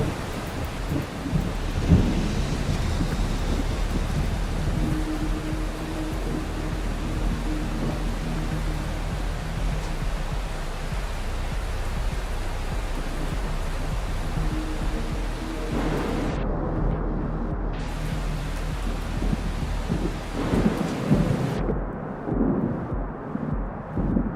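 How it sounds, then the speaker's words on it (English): Low-quality thunder effect from a video game, a continuous loud rumbling wash of broadband noise with rain-like hiss running throughout, briefly thinning and dropping out near the end. "I have really low quality thunder sound effects."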